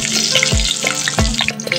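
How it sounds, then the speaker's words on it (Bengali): Bokful flower fritters dipped in batter fry in hot oil over low heat, giving a loud, close, continuous sizzle. Two softer thuds can be heard as pieces are dropped or turned. "কম আঁচে ভাজা হবে।"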